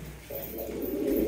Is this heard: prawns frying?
no